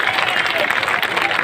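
Audience at a Hindi poetry recital in Rajnandgaon breaks into loud, dense applause, a steady close wash of many hands clapping with no talk over it.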